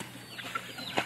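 Large backyard chicken, about two months old and reportedly with a cold, giving brief soft clucks close by, with a slight rustle, in a farmyard.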